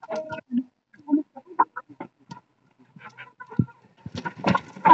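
Village chickens give sparse, separate clucks and short calls with quiet gaps between them, growing denser and louder toward the end.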